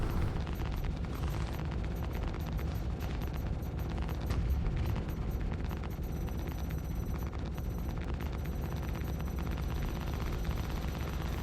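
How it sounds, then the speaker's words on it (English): Giant ship turrets fire in the Star Citizen space combat game, a dense, continuous roar of booming blasts and rumbling explosions that stays loud throughout with no pauses. "Shooting giant ships with other giant ship turrets."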